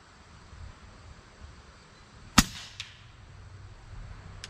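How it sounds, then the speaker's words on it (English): A single loud rifle shot cracks out sharply while a Texas Precision Optics Sniper VT 5.9-39x56mm scope is tested, followed by a brief echo and a fainter second report in otherwise quiet outdoor air. "Got that first shot out there."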